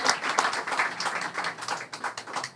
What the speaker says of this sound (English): Yes, yes. Applause.